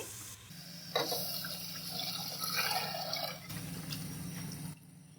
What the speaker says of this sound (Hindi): अब हमने जो दही फेंट के रखी थी वो डाल देंगे।